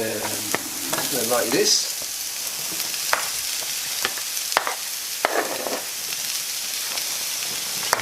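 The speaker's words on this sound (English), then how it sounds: "Right, now we're going to put the pork in." Leftover roast pork goes into a hot pan for a stir-fry and sizzles loudly and steadily, with scattered clatters and scrapes over the frying hiss and a few brief spoken words near the start.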